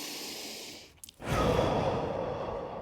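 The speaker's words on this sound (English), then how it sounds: "And we go for 6 breaths in and out." Slow, deep breathing during an upper-back stretching workout: a long airy exhale trails off into a brief pause with a small catch, then a fuller, louder breath follows close to the microphone.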